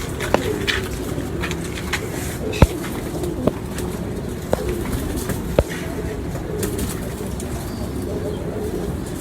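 Pigeons coo softly and continuously at close range in a pigeon fancier's loft in Lahore, with several sharp clicks or taps punctuating the murmuring calls.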